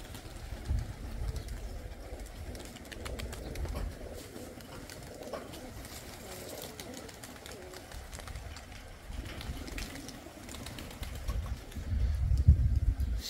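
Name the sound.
flock of pigeons in the sky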